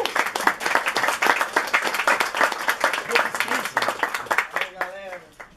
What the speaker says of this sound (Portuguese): dá uma salva de palmas para o Mandrake!